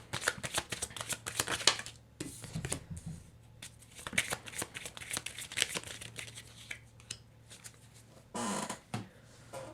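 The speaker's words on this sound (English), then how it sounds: "I shuffle, lay 3 out face down, and you can take the pile that you're drawn to" A deck of tarot cards is shuffled by hand in repeated quick riffling bursts, close and fairly quiet, with brief pauses between shuffles.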